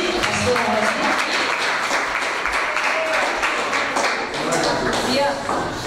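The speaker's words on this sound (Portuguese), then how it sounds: "Vamos receber o grupo Shekinah com palmas para Jesus" Church congregation applauding during a festive worship service, dense continuous clapping filling the hall, with voices talking and calling out over it.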